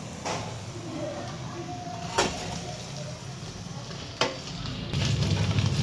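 Chirer puli, flattened rice sweets, frying in hot oil give off a steady soft sizzle with a couple of sharp clinks from a utensil, then a brief louder bubbling burst near the end.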